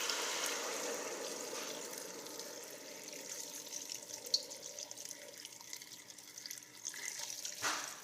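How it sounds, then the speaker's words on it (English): Six cups of water pour into a pot of venison stew, a soft, steady splashing stream that thins and tapers toward the end, fairly faint with no talk over it. "So now I'm adding 6 cups of water."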